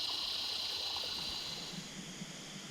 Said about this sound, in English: A little babbling brook to help me go to sleep at night as well.